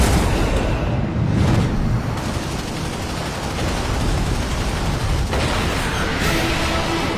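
A huge fireball explosion from an aerial dogfight after 30mm cannon fire, heard as a loud, sustained rumbling roar with crackling bursts filling the whole stretch, close and dense throughout.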